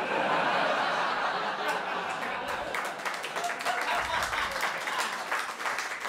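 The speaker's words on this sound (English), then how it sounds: "Can you not clap that?" A comedy show audience claps and laughs together, a steady wash of applause filling the space before fading slightly.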